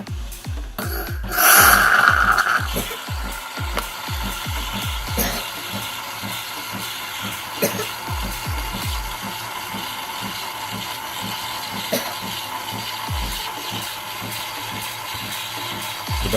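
A Delonghi Nespresso Lattissima Plus coffee maker frothing milk, a steady mechanical whir with rapid ratcheting clicks and a brief hissing burst near the start, continuing loud and close throughout.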